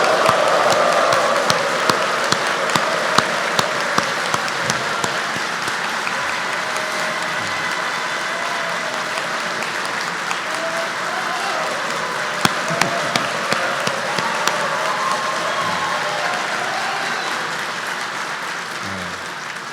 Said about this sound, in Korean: 크게 박수와 환호 부탁합니다